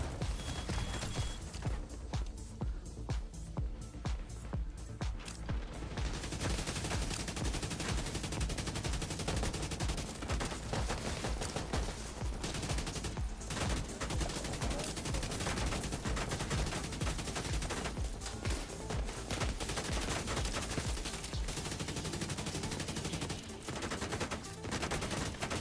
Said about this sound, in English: They're shooting through the crane?